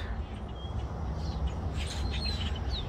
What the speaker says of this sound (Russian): Это что-то они там понимают на своем птичьем языке